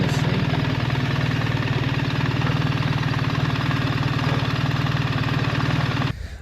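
A BMW R1300GS motorcycle engine runs at a close, steady idle with a throbbing rhythm and no clear revving, cutting off abruptly at the end.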